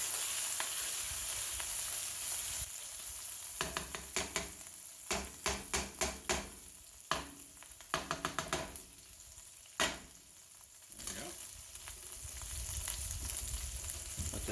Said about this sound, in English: Kind of mash this up a little bit.